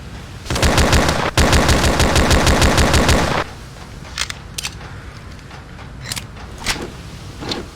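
An enemy fires a rapid automatic burst for about three seconds in the FPS Creator game Mob Ties Tokyo, loud and close with evenly spaced cracks. Faint scattered clicks and thuds follow in a quieter stretch.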